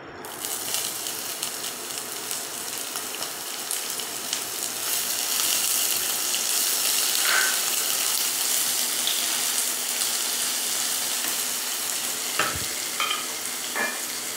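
Chopped onions fry in a pan for mutton keema, making a steady, close hiss that swells slightly and holds, with a few light utensil clinks near the end.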